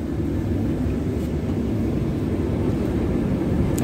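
Interior of a moving city bus in Brazil: a steady, loud low rumble of engine and road noise fills the cabin without interruption, with no voices.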